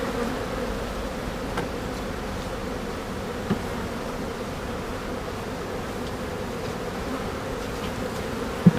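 Honeybees from an overwintered colony drone in a steady, dense buzz as they are shaken off frames down into a nuc box, the hum constant and close with a couple of faint knocks.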